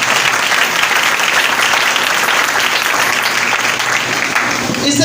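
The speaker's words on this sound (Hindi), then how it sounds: "इस खिदमत के लिए जोरदार ताली।" An audience at a church sermon gathering breaks into loud, dense, continuous clapping that stays steady from start to finish, filling the room.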